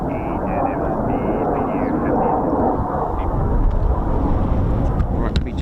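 F-15E Strike Eagle jets on a range pass with a broad, rumbling roar that builds slightly toward the end, heard under steady radio chatter and talk.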